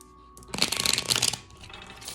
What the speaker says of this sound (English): Now I'm gonna shuffle these.